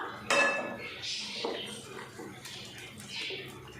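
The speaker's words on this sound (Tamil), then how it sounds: "அரிசி சேர்த்துட்டு நல்லா கலந்து விட்டுடலாம்." Soaked plain everyday rice being stirred into vegetables in a pot, with soft scraping and occasional light metal clinks at close range, fairly quiet and steady.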